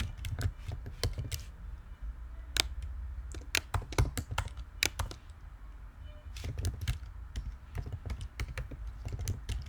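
Someone typing code on a computer keyboard, irregular bursts of close, crisp key clicks with brief pauses between runs.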